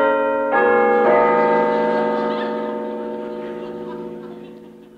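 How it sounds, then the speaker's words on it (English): An old bell, rung by pulling a bell handle, strikes twice in quick succession, its bright metallic ringing loud and close, then fades slowly with no talk. "Pull the bell handle."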